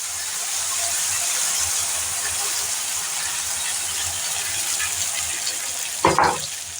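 Ground sesame-poppy seed paste fries with potatoes and bottle gourd stems in a pan, a steady soft sizzle and hiss that ends with a brief clatter of stirring near the close.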